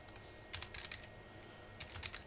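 Two short clusters of light, quick keystrokes tapped on a computer keyboard, close and quiet against a soft steady background hum, with a pause between the bursts.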